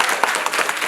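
An audience in a lecture hall breaks into applause, a short burst of dense, steady clapping from many hands.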